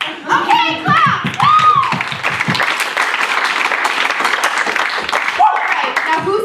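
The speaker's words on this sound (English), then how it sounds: "Okay, clap!" An audience claps at an improv comedy show in a small theatre, with loud, close applause and cheering that starts with vocal whoops and squeals, then settles into sustained clapping.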